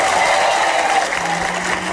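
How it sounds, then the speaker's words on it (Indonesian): Studio audience applause on an Indonesian TV comedy talk show, a dense steady wash of clapping that fills the whole stretch, loud and close, with a faint voice murmuring underneath. "Oke, kasih tepuk tangan dong."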